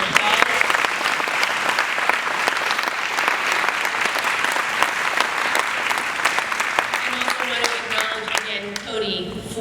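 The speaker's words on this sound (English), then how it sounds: "if we could just give her another round of applause" Sustained audience applause at an annual dinner, many hands clapping steadily and loudly, tapering off near the end as a voice begins to speak.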